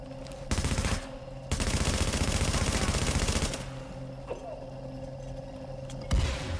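Automatic gunfire from The Division, an online shooter played solo in the Underground; long dense bursts of rapid shots, a short gap between them, then quieter scattered impacts and a final sharp blast.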